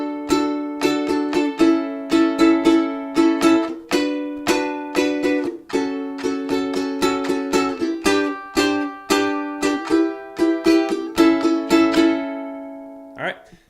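Bright, rhythmic ukulele strumming through a chord progression, steady and close, with no voice.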